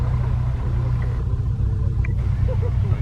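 A Mark 1 Ford Cortina classic car rolls past at a classic car show road run, a steady low engine rumble close by that holds for a few seconds without much change.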